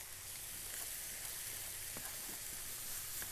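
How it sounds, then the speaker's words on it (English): Water is splashed into a hot pan to deglaze it, giving a steady, soft sizzle and hiss that runs evenly throughout with a few faint crackles. "all we're going to do is just take a little bit of water to kind of deglaze"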